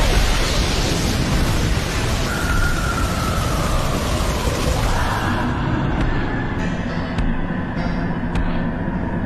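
A loud, sustained roaring blast of fire from a Fire Style Fireball Jutsu in an anime fight, a continuous broadband rush with a whooshing tone, easing somewhat toward the end as a few sharp clicks appear.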